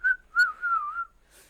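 A person whistles in imitation of the Clangers, the knitted puppet creatures: a few short and sliding clear pitched whistles, close and alone, with brief gaps between them.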